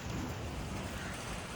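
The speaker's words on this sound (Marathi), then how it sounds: "अचानक लय जोरात पाऊस आला" Sudden heavy rain driven by strong wind at a cattle shed, a dense continuous roar of rain and gusting wind buffeting the microphone, loud and unbroken.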